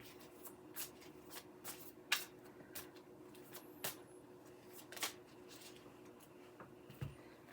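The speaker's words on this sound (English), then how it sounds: "do it again, shuffle again." Tarot cards being shuffled by hand in a quiet room, a series of soft, quick riffling bursts at irregular intervals, faint and close, with no talking.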